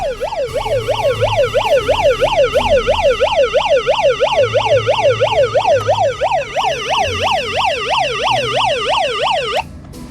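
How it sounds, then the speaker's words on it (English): A 1994 Hess Rescue Truck toy siren wails in a steady, rapid up-and-down cycle on weak batteries, loud and close, running continuously for several seconds before cutting off abruptly. "And finally, the siren."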